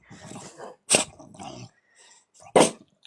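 A French bulldog grunts and snorts in short bursts, close and fairly loud, with soft breathy snuffles between them.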